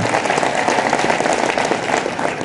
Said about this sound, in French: Cette journée, oui, vous pouvez l'applaudir aussi.